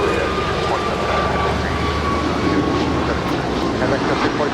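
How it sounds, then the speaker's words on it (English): An American Airlines jet bound for Miami takes off from runway 25 right at Los Angeles International Airport. It makes a loud, continuous engine roar with a faint whine on top, and a voice talks over it. "that is American 2289 off to Miami. Runway 25 right."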